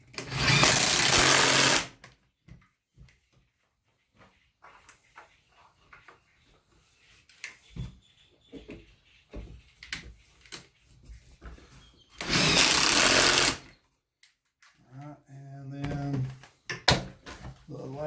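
A power drill drives screws into 2x4 lumber while building a patio side table. Two loud, sustained whirring bursts, one at the start and one later, have someone talking in the gap between them.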